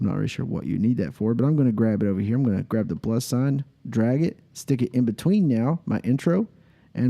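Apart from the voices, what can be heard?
No everyday noises stand out.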